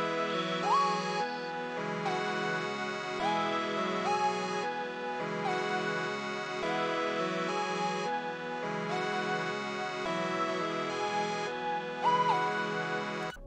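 Looping trap beat melody built from three layered synth parts, a retro pad, a lead and a third sound, repeating in steady bars with no drums, loud and continuous with no talking.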